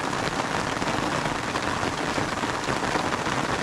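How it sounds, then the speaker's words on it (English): Torrential rain pours down steadily outdoors at a riverside cookout, a loud, dense and unbroken hiss of drops with no voices. "it's just started pissing down rain again"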